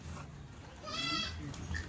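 A goat bleats once, fairly close and loud, on a farm where goats are being milked, with livestock murmur and background noise around it.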